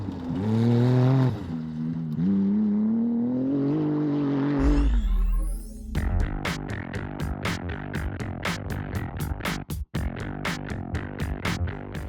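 Turbocharged side-by-side off-road race vehicles, including Can-Am machines and Jimco buggies, run a technical desert circuit; an engine drones and shifts pitch before giving way to music with sharp rhythmic hits, no voices.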